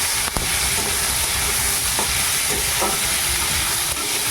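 Onions and potatoes frying in hot oil make a steady, dense sizzle throughout, close and fairly loud, with a few faint clicks of stirring and no voices.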